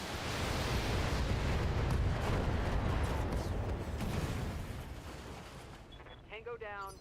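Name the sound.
missile fire and explosions in BattleTech video game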